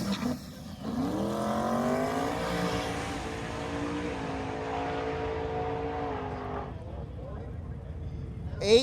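A drag race car on a run at Drag Week, its engine roaring and climbing in pitch as it accelerates hard down the strip, loud and sustained for several seconds before cutting off, with an announcer talking over it.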